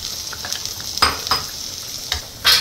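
Ivy gourd frying and being stirred in a pan for a Tamil home-cooked poriyal, with a steady sizzle and several sharp scraping stirs, the last one loud and close.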